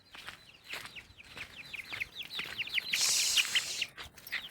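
Chickens in a kitchen garden of greens, coriander and okra cluck and chirp in quick repeated calls, close and fairly loud, with a burst of hissy noise partway through and no talk.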